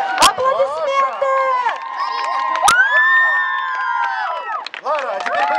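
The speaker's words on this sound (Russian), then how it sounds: "Аплодисменты!" At an outdoor Neptune Day dance festival, children and a crowd shout and cheer loudly, with sharp bursts of clapping and whistles over excited, overlapping voices.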